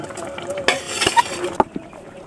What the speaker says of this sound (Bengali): ভালো করে এগুলো আমি এখন নেড়ে নেব